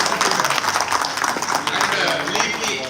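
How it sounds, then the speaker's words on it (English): A conference audience at ARSD College, University of Delhi claps in a dense, steady wash of applause lasting the whole stretch, with crowd noise mixed in. "to give a huge round of applause for our"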